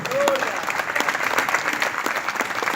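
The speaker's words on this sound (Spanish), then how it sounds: "Denle un fuerte aplauso al Señor." A church congregation claps in a steady, dense burst of applause that keeps going at an even level, a short whistle-like tone near the start.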